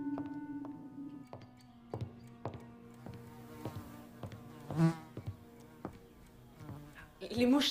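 Flies buzzing on a hot day in an indoor domestic setting, a thin droning hum running throughout amid scattered clinks and knocks, with brief voices near the end.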